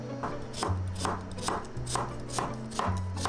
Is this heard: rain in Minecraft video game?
no